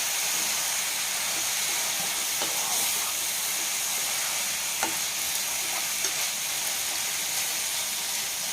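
Prawn curry with tomato pulp bubbles gently in a covered pan on low heat, giving a steady, even sizzling hiss with a few soft clicks and pops, alone with no talk.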